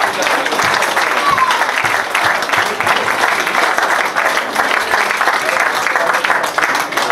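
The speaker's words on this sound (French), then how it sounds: "On peut les applaudir." A large audience applauds the Miss contestants on stage during an evening ceremony at the 2017 Cuon agricultural show in France, with dense, sustained clapping throughout and a voice faintly audible beneath it.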